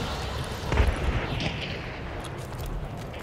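A bombing explosion in the video game Hunt: Showdown lands as a dull, distant boom followed by a fading low rumble.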